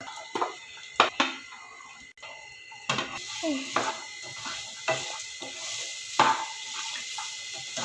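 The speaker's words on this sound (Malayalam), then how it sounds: "ഇനി നമുക്ക് ഈ വെജിറ്റബിൾസ് ഈ എണ്ണയിൽ തന്നെ ഇട്ട് നല്ലതുപോലെ ഒന്ന് ഫ്രൈ ചെയ്തെടുക്കാം" Carrot, green peas, beans and capsicum stirred in hot oil for an oats vegetable soup, giving soft sizzling with repeated scraping stirs and clinks, close by, under intermittent talk.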